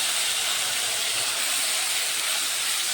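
A paste of ginger, green chilli, garlic and onion hits a hot pan for a Bengali raw-banana kofta, giving a loud, continuous broadband hissing sizzle with no break and no voices.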